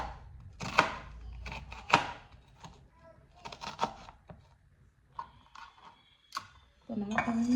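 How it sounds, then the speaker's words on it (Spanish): A knife chops an onion on a cutting board in a series of irregular, sharp taps with pauses between them, ending in a clatter of kitchen utensils. "Cortamos la cebolla."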